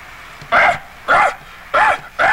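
A guard dog barks four loud, close, evenly spaced times, each bark a deep, full burst with brief quiet gaps between them.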